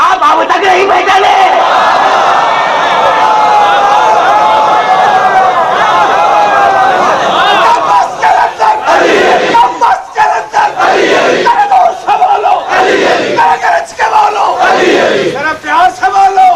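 A large audience at a religious majlis gathering chants religious slogans in loud unison, rhythmic call-and-response bursts of massed voices that swell and break repeatedly, very close and powerful.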